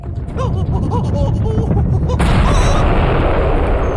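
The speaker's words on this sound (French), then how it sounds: "Quand une étoile meurt, elle explose." A deep, rumbling explosion of a dying star swells into a sustained roaring blast in a French-dubbed cartoon, with a voice speaking faintly beneath the start.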